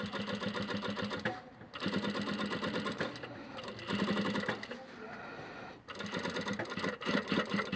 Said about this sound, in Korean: 이렇게 1cm 간격으로 스티치 작업을 하는 겁니다